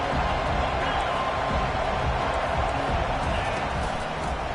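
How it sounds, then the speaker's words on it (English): Dense, steady roar of a large stadium crowd at an American football game in a video game, loud and continuous throughout with no clear breaks. "This crowd bringing the energy and noise early."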